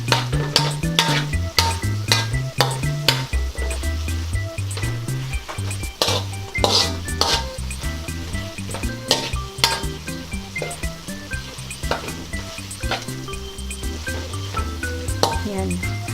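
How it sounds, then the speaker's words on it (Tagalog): Pork and bitter gourd (ampalaya) are stirred in a sizzling pan, with a steady fry and repeated clinks and scrapes of a metal utensil against the pan throughout, alongside occasional talk. "halo lang ng halo"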